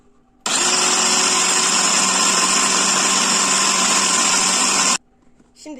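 A food processor grinds a çiğ köfte mixture in a steady, loud, continuous whir that starts abruptly, holds for about four and a half seconds, then cuts off.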